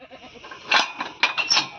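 Goats in a grazing herd bleat several times in quick succession, loud and near, with short overlapping calls and no talk.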